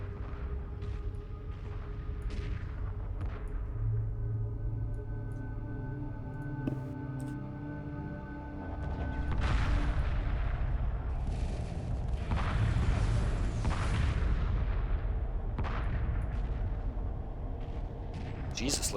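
Heavy missile frigates fire in Homeworld Remastered during a 3v3 space battle, a dense run of booming launches and impacts that swells louder about halfway through, over a steady low rumble with a voice talking over it.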